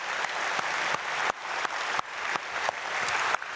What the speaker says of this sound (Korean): 우리 사랑하는 아이들에게 박수로 축복하겠습니다